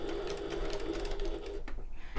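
A sewing machine stitches a seam on a fabric shoulder bag in a fast, steady mechanical whir that runs close and clear, then stops abruptly near the end.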